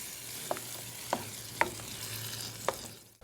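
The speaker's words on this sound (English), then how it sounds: "we're going to take our pureed San Marzano tomatoes and we're going to add that right to the pan" Pureed San Marzano tomatoes stirred into a hot pan, with a faint steady sizzle under a few distinct scraping stir strokes spaced about half a second to a second apart, close and quiet, no talking.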